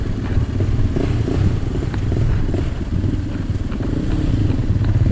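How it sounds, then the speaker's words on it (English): Motorbikes with the boys riding off-road at the ZigZag, a steady rumbling engine drone with wind buffeting the microphone, loud and continuous throughout. "Got the boys out on the bikes."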